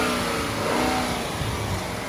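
A 2012 car's engine revs at an auction, a loud, rough, steady roar filling the whole moment with no pauses and no voices over it.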